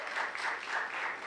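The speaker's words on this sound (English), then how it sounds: "You can give it up, you clap." An audience claps at a comedy show, a short burst of dense, even applause from a crowd, moderately loud and continuous with no talk over it.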